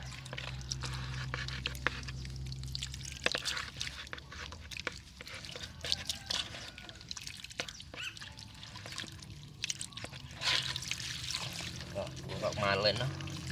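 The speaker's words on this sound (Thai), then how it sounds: "ก็ใช้น้ำฉีดล้างเลยนะครับ" Water sprayed from a hose to wash lotus tubers for propagation, a steady broadband hiss and splash running throughout with someone talking over it.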